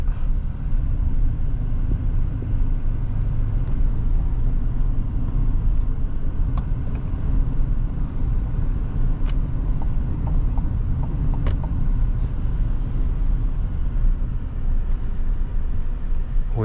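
Cabin of a 2025 GMC Sierra 1500 SLT pickup changing lanes on the road, a constant low road-and-engine rumble with a few faint ticking clicks scattered through.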